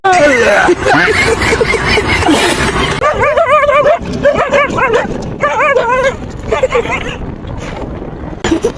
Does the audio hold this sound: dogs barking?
yes